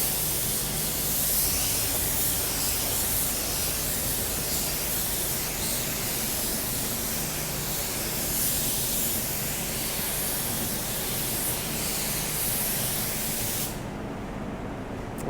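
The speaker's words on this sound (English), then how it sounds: "we're gonna spray one coat on her and see what it looks like" Steady, loud hiss of a paint spray gun laying a coat of paint on a car, continuous and close for most of the stretch before cutting off abruptly near the end.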